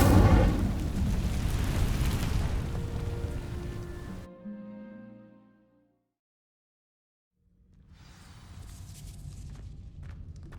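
In Hogwarts Legacy, an Incendio spell sets dry vines alight: a loud rushing crackle of flame that fades away into silence, then a quieter crackling returns near the end.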